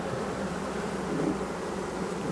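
Honeybees hum steadily around hive frames from colonies working goldenrod, a continuous dense buzz of many insects at close range, even in level with no voices.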